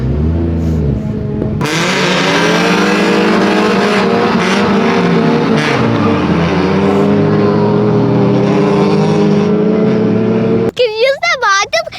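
Race cars accelerating at an autocross event produce a loud, sustained engine roar with rising and falling pitch as they speed up, heard from close by, with a voice briefly audible at the end.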